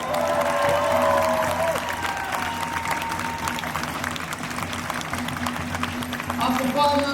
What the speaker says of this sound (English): We give a big round of applause.